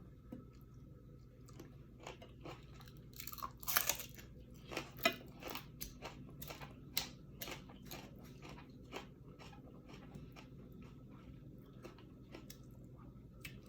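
Close, wet chewing and crunching of a spicy carrot and salmon salad, with irregular bites and squishy mouth sounds over about fourteen quiet seconds, including a louder crunchy burst early on.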